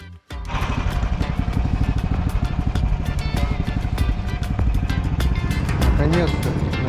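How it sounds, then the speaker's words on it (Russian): Engine of a Uragan off-road vehicle starting and driving off by a forest lake, a loud steady motor drone with a rhythmic, pulsing rumble that holds throughout after a brief quiet start. "заводим урагана и едем на избу"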